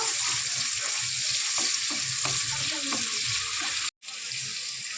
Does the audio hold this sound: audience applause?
no